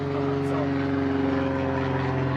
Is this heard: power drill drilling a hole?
no